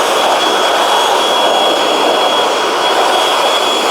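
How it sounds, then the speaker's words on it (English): A leaf blower drying a cylinder mower after cleaning, a loud, steady, close-up roaring rush of air that holds level for the whole stretch with no talk. "Get it nice and dry with a blower."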